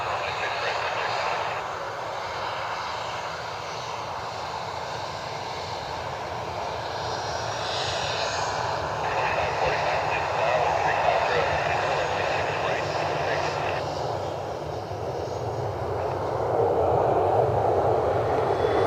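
A Delta airliner flies overhead near Cleveland Hopkins airport, its engines a broad, steady roar with shifting whine, moderately distant and sustained throughout, with no voices heard.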